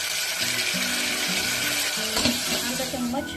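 Finely chopped garlic, onion and potato sautéing in a pan give a steady close sizzle with scraping stir sounds, while faint tonal background noise hums underneath.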